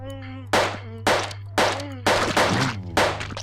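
Gunfire in The Consuming Shadow, a horror video game: five loud, sharp blasts at roughly half-second intervals, each cracking out over a steady low hum and a faint tonal drone, with no talking.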